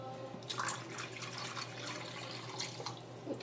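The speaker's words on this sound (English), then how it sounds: "And maybe just a little tad bit of water, not much." A small splash of water poured into a beef roast pot, a faint brief trickle and dripping over a low steady hum, with no talk.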